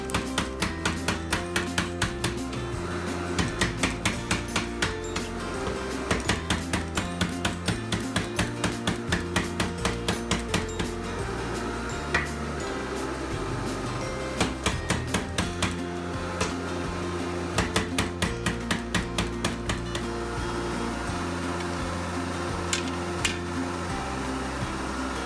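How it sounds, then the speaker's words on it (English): A power hammer forges the tang of a hand-and-a-half sword, pounding steadily in rapid bursts of strikes over a constant mechanical drone. "With a power hammer, it's actually kind of fun."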